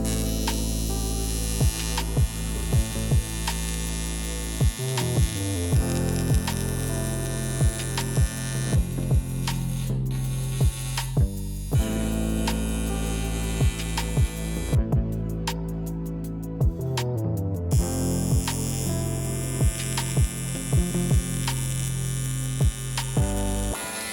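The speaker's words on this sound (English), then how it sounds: "Cloppy's going to fire up the TIG and blast away" TIG welder working on an aluminium engine sump still bolted to the block, giving a steady electric buzz and hum with shifting tones, broken by brief pauses and clicks as the arc stops and restarts.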